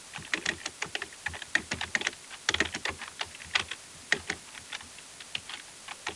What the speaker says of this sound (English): let's type this in here